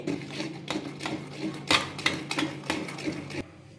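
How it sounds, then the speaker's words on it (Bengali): Fermented idli batter of ground rice and lentils is mixed with salt in a bowl, giving close, irregular clattering scrapes and knocks for a few seconds before stopping abruptly. "খুব ভালোভাবে নুন দিয়ে আমি এটাকে একসাথে মিক্স করে নেবো।"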